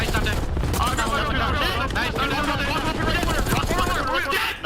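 Rapid assault rifle fire in a Call of Duty League match plays out as dense, continuous bursts, loud and close, with excited players talking over it throughout.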